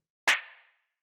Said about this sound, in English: Next thing we have here is this clap, which sounds like this